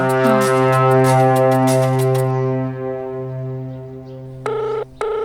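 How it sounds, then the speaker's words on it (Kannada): A phone call rings out as a sustained, loud electronic tone with harmonic buzz, then after a short quiet gap two brief repeated ring bursts follow, close and clear. "ರಿಂಗ್ ಆಗ್ತಿದೆ"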